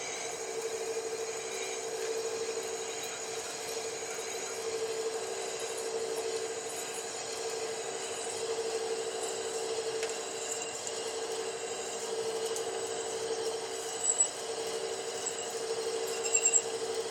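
A lathe cuts a part and throws off curling shavings, giving a steady, even machining drone with a constant tonal hum that runs unbroken throughout, with a couple of small clicks near the end.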